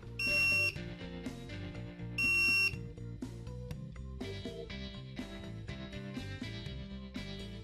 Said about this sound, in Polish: odezwie się alarm.